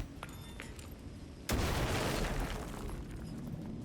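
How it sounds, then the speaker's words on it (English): A flashbang goes off in the video game Alan Wake 2: quiet ambience, then one sudden loud burst that leaves a dense, sustained ringing wash. "Flashbang out."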